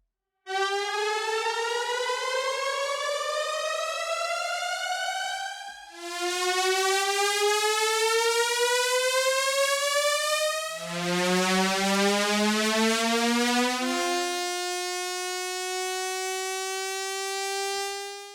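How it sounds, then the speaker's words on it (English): Riser layers from a sample pack play one after another: loud, clean tones sweep steadily upward in pitch like sirens. A new layer starts at about 6, 11 and 14 seconds, the last steadier and more sustained. "this is kind of, yeah, the broken down layers of the riser."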